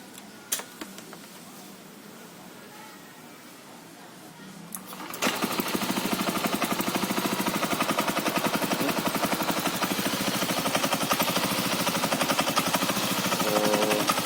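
A Yamaha Aerox scooter fitted with an aftermarket fuel tank starts up after a few seconds of quiet, then its engine runs at a steady, loud idle close by, with no talk.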